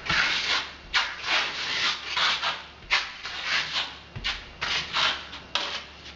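A trowel spreads the first skim coat of old world Italian style plaster on a wall, giving close, repeated scraping and rubbing strokes in an uneven rhythm of swells and fades, with no talk.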